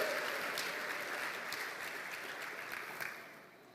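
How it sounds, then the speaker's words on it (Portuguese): Church congregation applause during a Portuguese-language service, a steady wash of clapping from many people that gradually fades toward the end, fairly soft overall. "Dê um aplauso ao Senhor aí para mim"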